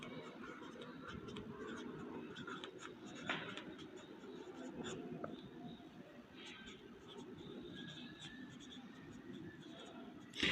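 Faint, scratchy strokes of writing on a board during a class 11 higher mathematics lecture on trigonometric formulas, heard in short bursts beneath a teacher's ongoing talk in a quiet room.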